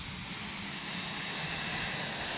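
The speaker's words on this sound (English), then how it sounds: "Spaceship One and the chase planes taxi past a sea of spectators gathered near the taxiway" White Knight carrier aircraft, SpaceShipOne and an Alpha Jet chase plane taxiing past spectators near a Mojave taxiway, a loud, steady jet-engine roar with a thin high whine, close by and continuous.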